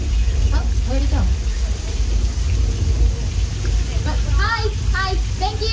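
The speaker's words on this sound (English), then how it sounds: "it's raining mostly on the left-hand side of the tram, not so much on the right side." Artificial rain pours onto a Universal Studios Hollywood tour tram at night, a loud, steady rush of falling water with people talking and calling out over it.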